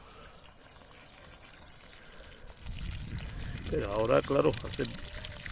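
Water poured onto a newly replanted caper plant in calcareous soil: a steady rushing splash starts midway and keeps going under a voice that speaks over it.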